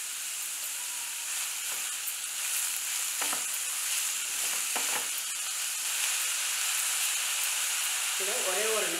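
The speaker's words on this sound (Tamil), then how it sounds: "வெங்காயம் கொஞ்சம் சீக்கிரமாக வதங்கணும்னா கொஞ்சமாக உப்பு சேர்க்கணும்." Onions sautéing with a little salt in a pan give a steady, close sizzling hiss with occasional stirring scrapes, and a brief voice comes in near the end.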